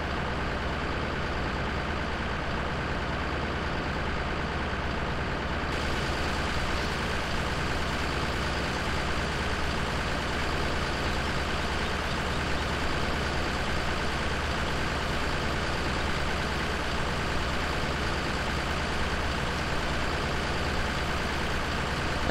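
Tractor engine idling heard from inside the cab in Farming Simulator 17, a steady, muffled low drone that holds constant and unchanging for over twenty seconds.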